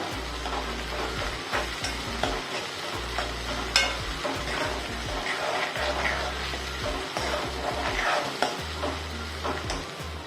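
Chopped tomato softening in a pan for dal and rice, a continuous crackling sizzle with occasional stirring taps over a low, steady stove hum.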